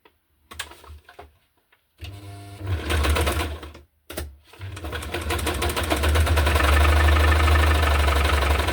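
A sewing machine stitching the pages of a hardcover junk journal, running in short starts and stops, then settling into a long, steady, close whirring and rattling run, with no voices.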